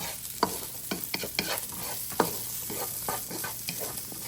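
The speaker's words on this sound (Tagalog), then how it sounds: "Itatagisa sa mantika." String beans sauté in hot cooking oil in a pan while a Filipino spring roll filling is being made. A soft steady sizzle runs throughout, broken by repeated sharp scraping strokes of a utensil stirring, with no voices.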